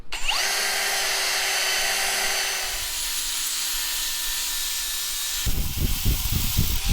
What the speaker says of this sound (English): I'm gonna try to take a wire wheel to it, see how good it does.